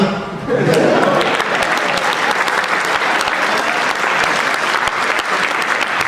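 A large crowd at a Hindi comic poetry recital bursts into loud, sustained applause, a dense roar of clapping that swells in and holds steady.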